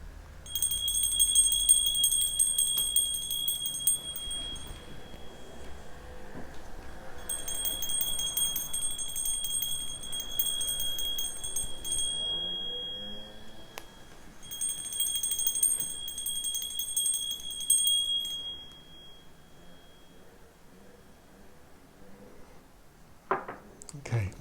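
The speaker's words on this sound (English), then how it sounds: "I should first ring a bell to fully clear the space." A high, clear bell rings three times in long sustained rings for clearing a space, each ring slowly fading, with quiet talking underneath.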